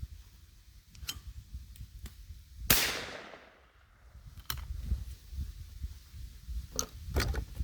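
A shotgun shot at a thrown clay pigeon: one loud, sharp report with a long fading tail, amid scattered clicks and ticks and a rumbling outdoor background; no talking.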